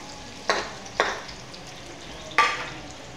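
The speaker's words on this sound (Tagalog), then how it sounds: "haluin hanggang malabas ang aromatic sa onion at saka bawang" Garlic and onion sautéing in a pan make a low, steady sizzle, with three distinct stirring scrapes rising out of it, the last one the loudest.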